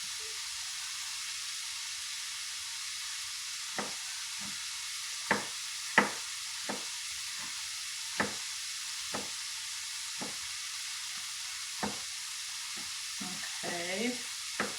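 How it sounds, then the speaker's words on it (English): Onion and tomato mixture cooking in a pan, a soft continuous sizzle broken by scattered sharp clacks and scrapes as the pan is shaken. "Let's shake our onion mixture and make sure it's working good."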